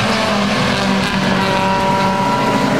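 A pack of classic touring race cars roars through Gerrard corner at Mallory Park, engines droning loudly and continuously with layered pitches as the field sweeps past.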